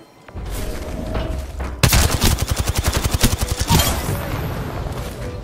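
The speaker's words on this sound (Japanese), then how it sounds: "あ、銃声します。" Gunfire in the video game Apex Legends: a loud, rapid automatic burst of close, evenly spaced shots lasting about two seconds, followed by fading echo and quieter game noise.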